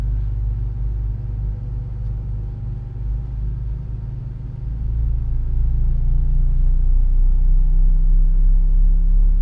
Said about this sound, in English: Damn, listen to those engines.